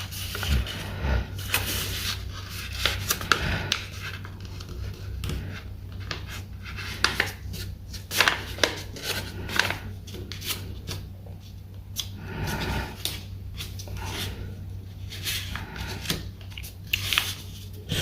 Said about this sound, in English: we'll fold the other side.